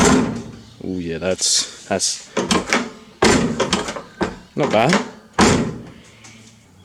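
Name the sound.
Toyota Hilux door being closed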